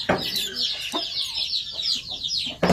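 Chickens sick with coryza cluck in a small cage. The clucks are close and repeated and fairly loud, with a short burst at the start and another at the end.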